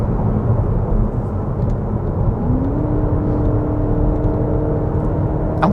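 A 2024 Cadillac XT4 AWD Sport engine hums steadily from inside the cabin, a low droning whir with road rumble and a slight rise in pitch.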